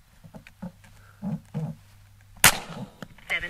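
A single sharp, loud report from a Seneca Dragon Claw II .50 caliber airgun at a shooting range, a sudden crack with a brief ringing tail, set apart from quiet murmured talk before and after.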